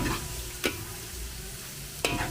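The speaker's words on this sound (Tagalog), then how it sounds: "Luto-lutoin lang muna natin sibuyas" Onions sauté in a pan during large-batch fiesta cooking: a steady close sizzle with two sharp scrapes of a spatula against the pan.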